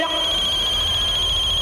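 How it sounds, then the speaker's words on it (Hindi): A telephone rings with a steady repeating electronic trill, close and clear, in an indoor scene. "किसका फोन बजा बे? किसका फोन बजा?"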